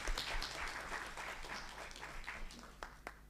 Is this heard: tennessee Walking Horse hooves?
no